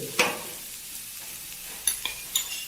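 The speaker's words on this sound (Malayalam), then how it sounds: "ചുവന്നുള്ളി നന്നായിട്ട് വഴറ്റിയെടുക്കണം" Shallots sautéed with salt in a pan make a faint, low sizzle, and a few sharp spatula scrapes cut in near the start and again toward the end.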